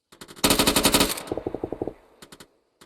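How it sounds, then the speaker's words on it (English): Machine gun firing on full auto in Arma 3, a tight loud burst of about a dozen rounds that tapers off, followed by a short three-round burst and one more shot, with no talking. "Right sections switch up to rapid fire."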